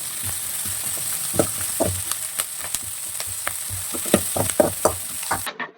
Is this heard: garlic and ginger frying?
yes